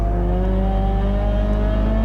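A Peugeot 206 GTi 180 race car accelerates hard at Silverstone, its engine a loud, close, steady roar with a tone that rises smoothly through the brief burst.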